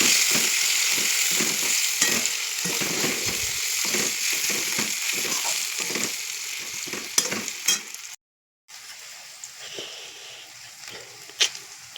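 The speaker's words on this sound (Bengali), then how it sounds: "পেঁয়াজটা হালকা ভেজে নেব" Onions fry lightly in a pan with a close, steady sizzle and repeated stirring scrapes, a short dropout near the end, then the hiss resumes faintly.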